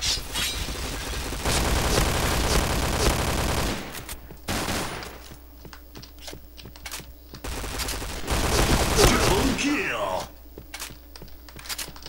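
Rapid bursts of P90 submachine-gun fire in the online shooter Point Blank crackle loudly in several separate volleys, with players chatting over and between the shots.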